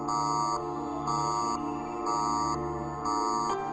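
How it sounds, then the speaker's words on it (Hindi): An office fire alarm rings in steady, evenly spaced electronic bursts, each about half a second long and separated by short gaps, and the tone stays loud and continuous across the whole stretch. "ये आग का अलार्म है।"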